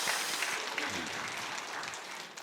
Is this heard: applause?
yes